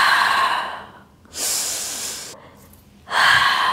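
Two strong, breathy exhales during a Pilates mat exercise for the hips, each lasting about a second with a quieter pause between them; a fainter breath is heard before the first.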